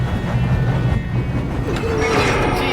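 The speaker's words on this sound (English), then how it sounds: "We have to stop this train." A train rolls along the tracks in Red Dead Redemption 2, a steady loud rumble and rattle of wheels with a brief metallic squeal rising near the end, and no talk.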